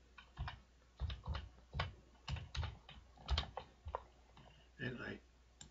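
Typing on a computer keyboard, a close run of irregular clicking keystrokes in short bursts with brief pauses between them.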